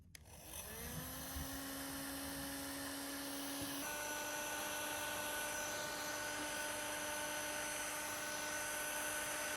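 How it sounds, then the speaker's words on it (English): A heat gun runs continuously to shrink heat shrink tubing over nuts on a 25ft Bertram boat project, giving a steady close whirring drone with a high fan whine that shifts slightly partway through. "I'm just going to use the heat gun to shrink all the heat shrink so it's a nice tight fit"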